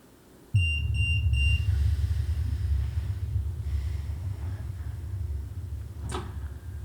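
In a college apartment, an electronic alarm gives a quick burst of about six high, rapid beeps near the start, then falls silent. A low, steady rumble and a faint thump follow.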